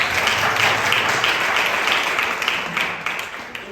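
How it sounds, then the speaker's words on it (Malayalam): Congregation applause at a church kids and youth fellowship gathering, a dense steady clapping that holds for several seconds and thins slightly toward the end. "റിസോണയ്ക്ക് ഒരു നല്ല കൈയടി കൊടുത്ത് എല്ലാവരും"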